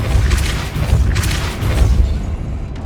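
Repeated Depulso force spells cast in Hogwarts Legacy land as loud, deep booming bursts with crackling whooshes, several impacts rolling together in a dense, continuous barrage of game combat sound.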